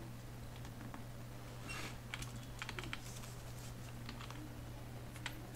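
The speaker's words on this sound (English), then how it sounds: "On the new text document you just need to type" Soft keystrokes on a computer keyboard, clicking in short irregular bursts against a low steady hum, faint and close, with no one speaking.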